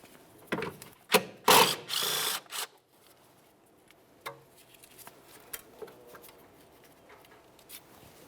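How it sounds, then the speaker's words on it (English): Ratchet wrench loosening 12mm bolts on a brake hose bracket of a 2003-2007 Honda Accord, giving a few loud close clicking bursts early on, then quieter scattered mechanical taps. "Remove these two 12mm headed bolts and then slide the bracket out of the way."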